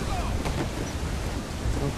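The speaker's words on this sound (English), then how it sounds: "Now there is a storm." A stormy sea in the pirate game Assassin's Creed IV: Black Flag, with loud, continuous rushing wind and crashing waves that swell and rumble throughout.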